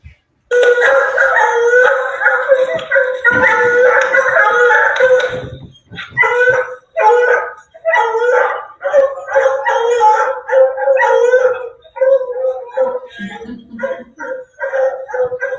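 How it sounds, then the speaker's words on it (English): Several hunting dogs bark and howl at a captured Florida panther, loud and close, a sustained chorus at first breaking into rapid, overlapping bursts of baying. "They keep barking like that, like the whole time you have a cat in hand?"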